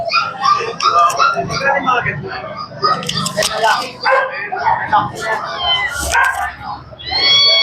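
Two-month-old cinnamon and lilac kittens at a pet market in Bulacan give a series of short, high meows. The meows come up through ongoing nearby conversation and market chatter.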